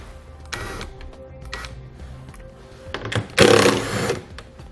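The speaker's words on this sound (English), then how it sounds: "We'll then use our 10mm socket to remove the hardware." A 10mm socket wrench turns and removes taillight hardware bolts on a 2014 vehicle during a hidden trailer hitch install, giving short bursts of ratcheting and mechanical whirring with pauses between them, close up.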